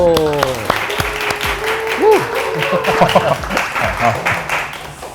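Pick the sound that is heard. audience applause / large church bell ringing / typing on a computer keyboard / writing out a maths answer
audience applause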